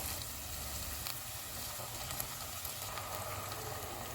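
Ginger-garlic paste and tomato paste fry with onions in a pan for a chicken tikka boti handi, giving a steady, fairly quiet sizzle with faint crackles and no voices.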